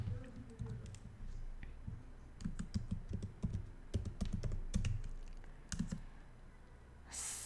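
Someone types a SQL query on a computer keyboard in a steady, fairly close run of key clicks with uneven rhythm and brief pauses, and no voices.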